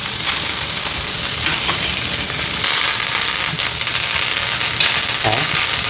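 Fish pan-searing in hot oil in a frying pan, a dense close sizzle with frequent sharp pops and crackles throughout, steady and loud with no talking.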